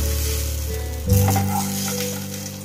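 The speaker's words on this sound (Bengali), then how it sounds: "ঠিক এইভাবে বেগুনটা নরম করে ভেজে নিতে হবে" Eggplant fries in hot mustard oil with a loud, close, steady sizzle. A stir around the midpoint sets off a sharper burst of crackling.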